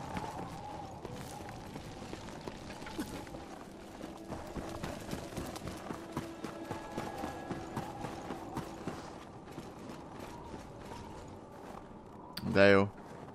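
Horse hooves clip-clopping in the video game Wo Long: Fallen Dynasty, a quiet, rapid run of hoofbeats continuing under game sounds, ending in a brief louder burst.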